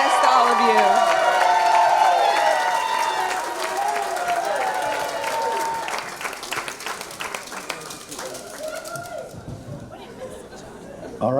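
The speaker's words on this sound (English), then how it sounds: "if we can have all of Brian's fans and family just cheer so we know you're out here" Fans and family cheer at a charity dance competition finale, with loud whoops, shouts and clapping from a lively crowd that gradually fades into scattered applause and chatter, voices mixed throughout.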